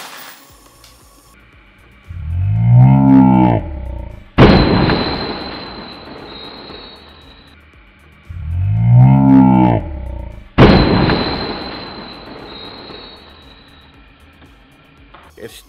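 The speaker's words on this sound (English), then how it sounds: "I'm gonna drop it with all the coins in there and just see what happens" A Lego coin pusher machine with an Animal Crossing theme running and dropping its load of coins, heard twice as a mechanical whirring ramp followed by a sharp crash and clattering spill that fades.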